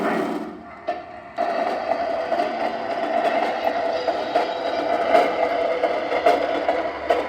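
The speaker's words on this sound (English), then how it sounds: "there you get that freight sounds noise." A Lionel Freight Sounds boxcar rolled along a model train layout track gives off a continuous loud rumbling freight-train noise that starts abruptly and holds steady with faint clanks.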